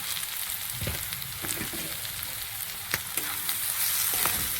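Coriander powder, cumin powder, chilli and salt fry in oil in a pan, a close continuous sizzle broken by occasional spoon scrapes and taps.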